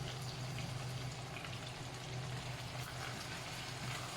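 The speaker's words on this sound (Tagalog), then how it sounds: "Continue lang natin na igisa siya guys." Chicken seasoned with white pepper sautéing in a pan for creamy chicken pastel, a steady close sizzle and crackle running evenly throughout with no talking.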